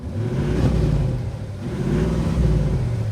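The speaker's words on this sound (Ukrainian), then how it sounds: "це дизельний двигун 4-літровий" The 4-litre diesel engine of an Audi SQ8 revs up twice in a row, a low rumbling surge rising and falling, heard fairly close with no talking.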